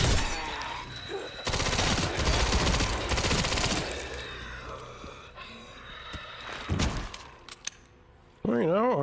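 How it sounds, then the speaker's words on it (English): Video game gunfire with a machine gun rattling in dense, rapid bursts, loud and close, broken by sharp single cracks and impacts, while people talk over the shooting. "our machine gun's doing work"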